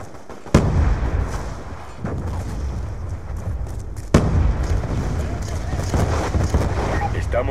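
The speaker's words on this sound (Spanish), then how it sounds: "¡Granada!" Explosions and gunfire in Call of Duty Black Ops 2 online team deathmatch: two sharp loud blasts with rumbling fire between and after, under continuous game noise and some talking.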